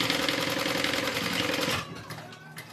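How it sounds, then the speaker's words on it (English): Sewing machine stitching fabric for a zip-around wallet, a fast, steady run of close needle strokes for nearly two seconds, then stopping and leaving quieter handling sounds. "I'm stitching outside to outside, inside to inside"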